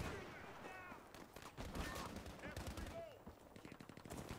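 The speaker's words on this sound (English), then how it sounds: "there's a guy on the left shooting me" Enemy gunfire in the Battlefield V multiplayer game, rapid rattling automatic bursts and scattered shots mixed with battlefield noise and voices talking over the action.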